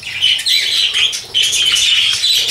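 Pet parrots kept as a bonded pair chirp and flap their wings close by in a busy, continuous burst of high twittering, with short breaks in the fluttering and no talk.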